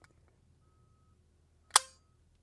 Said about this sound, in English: Next up, the old staple gun.